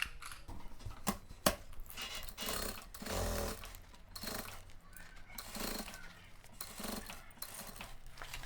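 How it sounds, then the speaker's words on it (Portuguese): A sewing machine stitches a zippered tote bag in quick bursts, a rapid mechanical whirring that starts and stops several times, fairly faint and close. "Vou vir na máquina e vou passar uma costurinha."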